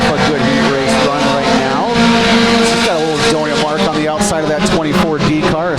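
Mini stock race cars roar around the Genesee dirt track during a heat race, engines loud and continuous with pitch swelling and falling as they pass, while an announcer talks over them.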